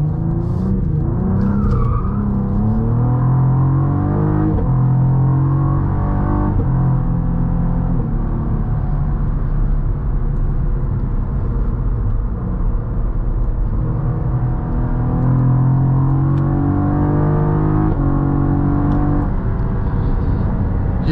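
A 2024 Cadillac CT4-V Blackwing engine drones and rises steadily from inside the cabin, with road rumble and tire noise as it accelerates onto the highway, loud and continuous.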